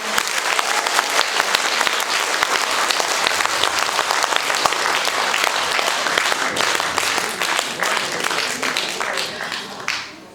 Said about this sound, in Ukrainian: ваші щирі аплодисменти